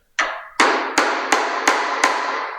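Six sharp hammer blows on a chisel cutting mortises on a Worx Pegasus work table, spaced about a third of a second apart, each crack ringing briefly with a woody thud, close and loud.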